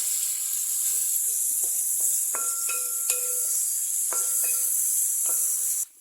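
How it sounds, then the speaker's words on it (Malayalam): Garlic and curry leaves sauté with salt in a hot pan, a constant bright hissing sizzle with a few short clicks and taps of a spoon against the pan, close and alone. "നന്നായിട്ട് വഴറ്റിയെടുക്കാം"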